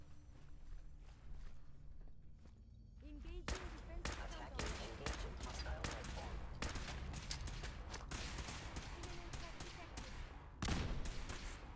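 Rapid bursts of gunfire from weapons in Fallout 4, at an assault on the Institute stronghold, crackle in dense volleys after a quieter start, with a voice talking over the shooting.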